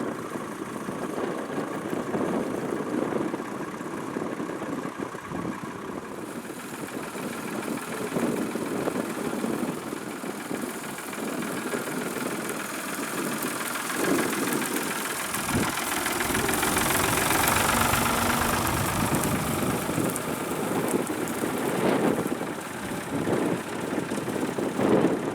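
Vintage small tractors work at a young farmers' working day in Spalding, Lincolnshire, their engines chugging steadily and knocking at mid pitch, rising and falling in loudness over about twenty-five seconds with no talking.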